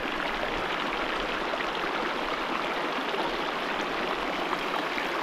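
Steady, close rushing of a hot spring stream at a waterfall campsite, a constant broadband flow with no other sounds.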